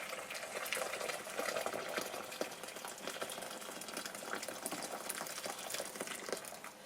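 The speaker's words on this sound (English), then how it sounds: "so I'm pouring some boiling water into this little bowl" Boiling water pours steadily into a small bowl, a continuous splashing, bubbling rush with no voices.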